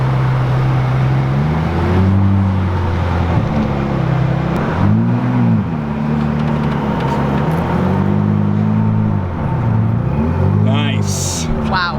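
Wide-body Porsche engine revving indoors inside a mall, a loud steady growl with rising and falling rev swells echoing in the enclosed space, people talking over it.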